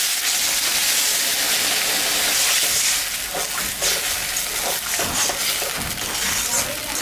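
Chela fish frying in a pan with salt and turmeric sizzle loudly and steadily, then water is added and the hiss breaks into uneven bursts of bubbling spatter, heard up close.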